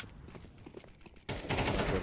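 Video game gunfire in a 2v2 match, with a faint stretch of scattered, muffled shots followed by a sudden louder burst of rapid, dense firing that continues to the end.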